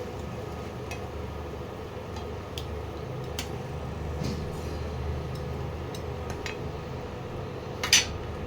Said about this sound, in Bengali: এইভাবে আমি পনিরটা তুলে আর জলের মধ্যে দিয়ে দিচ্ছি।